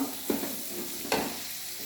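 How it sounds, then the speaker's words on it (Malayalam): Ambazhanga (hog plums) stirred into a hot pan of oil for chilli pickle, with two distinct scraping stirs over a low steady sizzle, close and fairly quiet. "ഇനി നമുക്ക് ഈ അമ്പഴങ്ങ ഇതിലേക്ക് ഇട്ട് കൊടുക്കാം. നന്നായിട്ട് ഇളക്കി കൊടുക്കാം."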